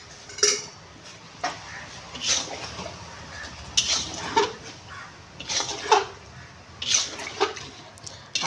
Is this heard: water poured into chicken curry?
yes